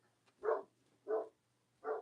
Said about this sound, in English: There's dogs like off in the distance that are like nonstop barking.